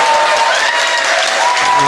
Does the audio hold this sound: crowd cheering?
yes